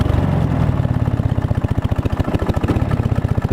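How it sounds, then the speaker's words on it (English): A cheap second-hand rally lawn mower with a dirty carburetor idles roughly, its small engine thumping in a loud, fast, slightly uneven pulse close by with no talk. "Oh hey, it's actually idling."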